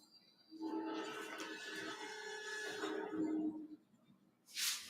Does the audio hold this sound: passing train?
yes